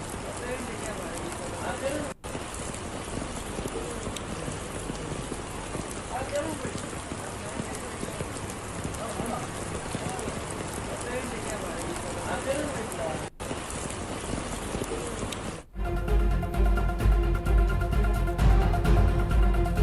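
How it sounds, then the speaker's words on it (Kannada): Heavy monsoon rain pours steadily across coastal Dakshina Kannada during flooding, a dense continuous hiss close by, with a news voice talking over it before the sound cuts to music near the end. "ಎಲ್ಲಿ ನೋಡಿದ್ರೂ ಮಳೆ ಆಗ್ತಾ ಇದೆ"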